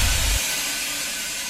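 A train's brakes let out a loud, steady hiss of air as it stops, with a deep low rumble at the start that drops away into broadband hissing.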